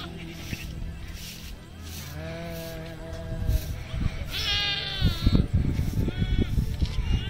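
Goats penned in a livestock enclosure in Ethiopia bleat in drawn-out, wavering calls, several animals overlapping at close range, with a busier burst of bleating and shuffling toward the end amid low outdoor background noise.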